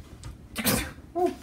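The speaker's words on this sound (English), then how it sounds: "Oh, I'm gonna sneeze." A single odd, squeaky human sneeze comes in two short bursts, a faint lead-in and then a louder close explosive release, followed by a brief vocal tail, with no talk over it.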